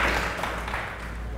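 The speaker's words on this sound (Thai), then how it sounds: "ขอเสียงปรบมือให้เพื่อนด้วย" Steady applause from a classroom audience for a student group that has just presented a health tourism program, a dense continuous patter of many hands at moderate level with no talk over it.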